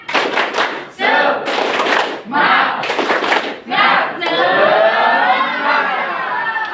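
A school class claps in a rhythmic spirit-clap pattern while shouting together in loud bursts, ending in sustained cheering and chatter close by.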